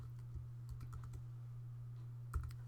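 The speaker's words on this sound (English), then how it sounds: "we'll just type in stop." Typing on a computer keyboard, a few light, scattered key taps in short clusters over a steady low electrical hum, with a slightly louder keystroke near the end.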